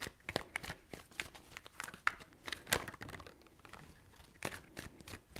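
Tarot cards being shuffled by hand, a run of crisp riffling and slapping bursts in uneven rhythm, close and fairly quiet, with no talking.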